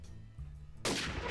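A sudden loud gunshot from a new gun in the Minecraft video game cuts in over a low droning game background and lingers as a dense, sustained blast.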